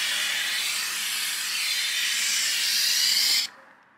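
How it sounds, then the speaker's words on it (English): A loud, steady hiss of steam from a Karcher steam cleaner with a window nozzle sprays window glass continuously for a few seconds, then cuts off abruptly, leaving a faint residual hiss. "So you just steam the glass like this."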